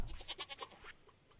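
A goat in the farming game Stardew Valley Expanded lets out a quick run of wavering, nasal bleats, clear and near, fading out after about a second with no talk over it.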